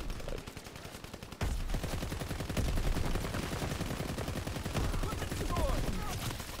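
Video game gunfire rattles in rapid continuous automatic bursts after a short lull, fairly loud and close, with a player talking over the shooting.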